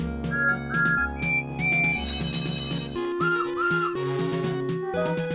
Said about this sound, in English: Then they heard whistles and hooted in the distance.